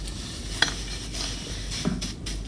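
Crispy food with onion and layered phyllo dough frying in a pan at home, giving a steady soft sizzle broken by a couple of sharp crackles and stirring clinks, close up with no talk.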